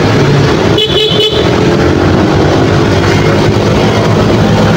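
A car horn toots twice in quick succession amid busy Manila street traffic, with engines idling and rumbling underneath throughout.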